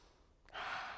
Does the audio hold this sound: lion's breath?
yes